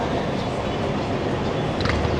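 An MRT train at EDSA station in Pasay gives off a loud, continuous rail roar and rumble at close range, steady throughout with no voices.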